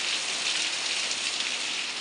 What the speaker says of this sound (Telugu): వర్షం అయితే చాలా గట్టిగా వస్తుందండి.